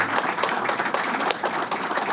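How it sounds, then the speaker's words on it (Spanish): Audience clapping at a solidarity-with-Cuba discussion event, a brief spell of steady, moderately distant applause with no voices over it. "Un aplauso para todos ellos."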